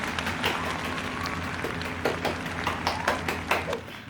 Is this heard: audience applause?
yes